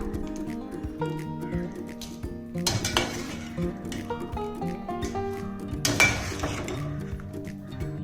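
Boiled soybeans are scooped out of a pot into another vessel, with repeated metallic clinks and scrapes of a ladle against the pans over steady background music.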